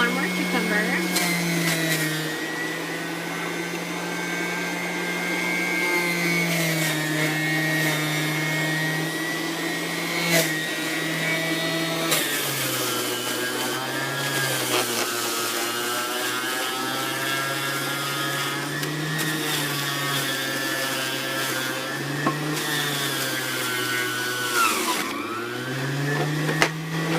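A Kuvings centrifugal juicer whirs loudly and continuously while juicing cucumber, a steady high motor drone that shifts pitch slightly as the produce is pushed through.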